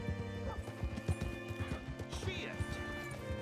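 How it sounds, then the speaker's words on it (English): Horse hooves clip-clop in an uneven trot in a Wild West video game, with a whinnying neigh partway through and voices talking over the action. "Hitch your horse up here."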